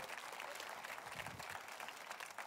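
A church congregation applauds during a French sermon on forgiveness, giving a continuous, fairly faint spread of clapping heard from a distance, with a few low murmurs mixed in.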